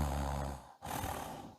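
A voice imitates snoring: a long, rough, rattling inhale, a brief pause, then a second harsh snort-like breath, close and fairly loud.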